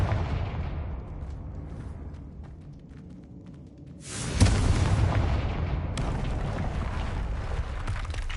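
A Confringo spell explodes in the video game Hogwarts Legacy, a sudden deep booming blast that swells into a sustained rumbling roar after a lower, rolling buildup.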